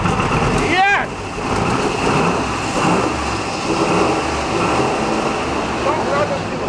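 A 1960 Corvette engine that sat for over 40 years, cold-started and revving steadily with a rough, continuous roar close by, after a brief rising whine near the start.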